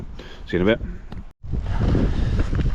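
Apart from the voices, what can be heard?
strong wind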